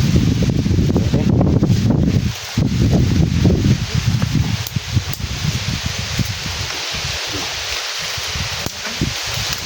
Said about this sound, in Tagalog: Grabe siguro lakas ng hangin